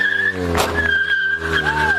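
A car accelerates away from armed police officers, its tires squealing sharply in a loud, close skid, with a short burst of engine and tire noise and rising and falling screeches over a running motor.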